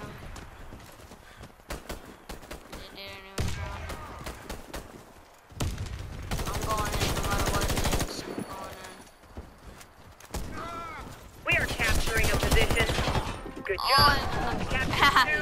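Gunfire in the shooter game Warface: bursts of rapid automatic shots and single cracks, loud and close, mixed with in-game voices and other game effects.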